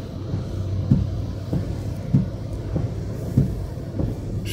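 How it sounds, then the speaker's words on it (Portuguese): Cars passing along a street in heavy December rain, a continuous low rumble with several distinct swells as individual vehicles go by at regular intervals, no talk. "Os carros maiores passam mais alto, né?"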